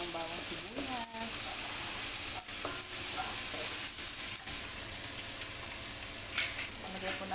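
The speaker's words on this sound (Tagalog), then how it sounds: "Gisa tayo ng bawang sibuyas." Garlic and onion sautéing in a pan for pork adobo with sitaw, a loud steady sizzle with intermittent stirring scrapes and a voice speaking briefly over it.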